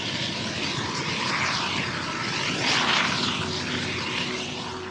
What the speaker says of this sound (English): you see a lot of giant flares that are burning natural gas